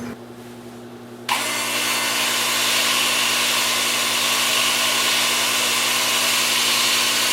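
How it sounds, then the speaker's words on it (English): Sanding an alder wood emerging bowl at a workbench: a steady, loud power-tool whir kicks in after a quiet second and runs unbroken to the end, close and alone. "I'll just take this over to the workbench and sand it up"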